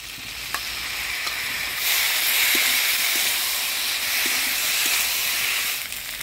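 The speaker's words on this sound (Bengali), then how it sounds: "কচু আলুটা মশলা দিয়ে ভালোভাবে কষিয়ে নিলাম" Pieces of taro and potato fry in oil with a ground paste of chili, coriander and ginger. A loud, steady hiss of sizzling runs throughout, swelling midway, with a few faint taps of stirring.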